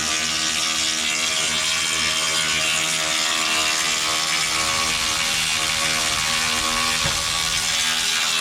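A ratchet wrench works a bolt on the front lower control arm of a 2000 Mercedes E320, giving a continuous, close, dense clicking that runs steadily throughout with no talking.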